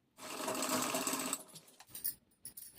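A sewing machine stitches a border onto the main fabric of an Anarkali dress, running in one steady loud burst for over a second, then stopping into quieter handling clicks and short rustles.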